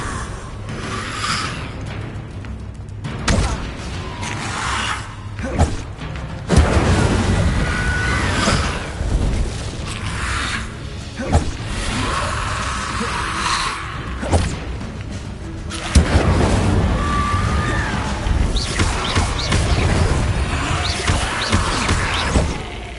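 Incendio fire spell blasts cast repeatedly in Hogwarts Legacy, loud whooshing bursts and thuds recurring every few seconds in a busy, dense stretch of combat sound.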